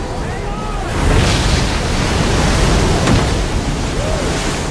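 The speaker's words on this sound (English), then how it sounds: "Large waves, moving at speeds of up to 70 miles an hour, surge across thousands of miles of open ocean." Large ocean waves surging across open sea off the Oregon coast near Cape Disappointment, a loud, continuous wash of surf that swells around the one-second mark and rolls on with turbulent rushing, under some faint voice.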